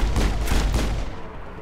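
A shotgun fires in Mass Effect, with heavy booming blasts and a few quick reports in the first second, then a rumbling decay with no talk.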